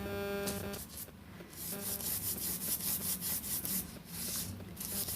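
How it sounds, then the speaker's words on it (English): Paint being rubbed onto a handmade Christmas card, giving a close, steady run of quick scratchy rubbing strokes with a brief tonal sound at the start. "when you start rubbing it just picks up and picks up"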